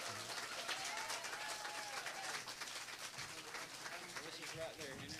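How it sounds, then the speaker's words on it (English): At a 91st birthday party, the crowd gives a round of applause, steady clapping that sounds somewhat distant and faint, with voices talking through it. "Y'all give him another round of applause."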